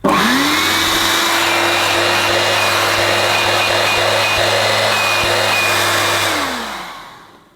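A Dirt Devil RoomMate vacuum cleaner runs steadily at close range, a loud, even motor whine that starts abruptly, holds for several seconds, then winds down and fades out near the end.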